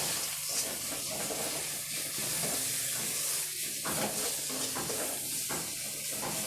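Ground coriander, cumin, turmeric, chilli powder and salt frying with dried Bombay duck for a Bengali shutki curry, a steady close sizzle and hiss with occasional scraping stirs throughout.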